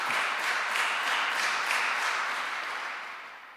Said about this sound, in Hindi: भरपूर तालियों में फादर जी को मुबारकबाद करें।